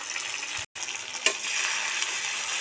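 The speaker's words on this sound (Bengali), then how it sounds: "আমি মশলাটা ভালো করে কষিয়ে নিব" Onion, chili and garlic pastes fry in oil for a Bengali river fish curry, with a steady close sizzle, one brief dropout and a stirring clink, and no talk.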